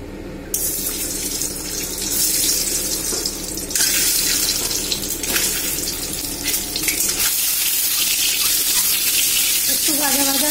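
Duck eggs, coated in turmeric powder, fry in hot mustard oil in a kadai, giving a loud, steady hiss and crackle with brief surges throughout, no talk.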